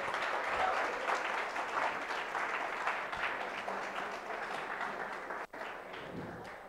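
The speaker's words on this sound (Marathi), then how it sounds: "मयूरसाठी जोरदार टाळ्या झाल्या पाहिजेत." Sustained applause for a prize winner at a project competition awards ceremony, a dense crowd of hands clapping steadily at close range, with murmured voices faintly beneath.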